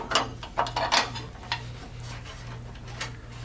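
Screws and nuts being fastened on an IBM 1130 computer light panel, heard as close, irregular metallic clicks and ratcheting taps over a steady low electrical hum.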